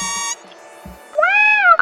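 Costumed fan's toy robot chirps happy electronic beeps: a stacked tonal burst, a pause with faint clicks, then a longer rising-and-falling warble, close and fairly loud.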